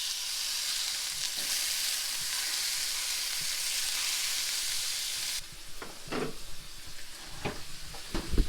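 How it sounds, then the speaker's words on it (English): Leftover food reheats in a pan with a steady loud sizzle. Partway through, the hiss drops and scraping stirring clicks cut in. No one speaks. "I'm just going to take some and then reheat it."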